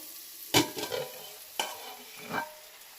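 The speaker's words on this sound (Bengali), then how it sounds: "পটলটা আর আলুটা ভাজা ভাজা হয়ে এসছে আর তারপর আমি পোস্তটা দিয়ে দিয়েছি" Pointed gourd and potato frying with poppy seeds in a pan, with a steady sizzle and three distinct scraping stirs of a spatula, close and moderately loud.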